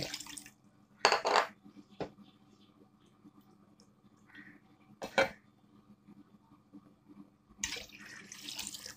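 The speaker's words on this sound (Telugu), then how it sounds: "నాలుగు కప్పులు నీళ్ళు పోసేసానండి" Four cups of water splash and pour into a pot for ragi porridge in a few short bursts, with soft clinks of a pot or dishes between them, close by in a quiet kitchen.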